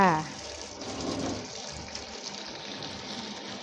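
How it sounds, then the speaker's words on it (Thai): Clean water is poured to rinse mushrooms in a home kitchen while cooking a Thai chili dip, a soft steady splashing and trickling following a brief spoken word at the start. "ก็เทน้ำล้างอีกทีหนึ่งนะคะ"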